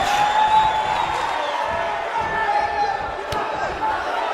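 A video-game wrestling arena crowd in WWE 2K19 gives off a steady, dense roar of cheering and shouting that holds at an even level throughout.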